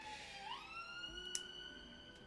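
An emergency vehicle's electronic siren wails steadily, its pitch sliding upward then holding a long sustained tone, moderately distant with faint background rumble.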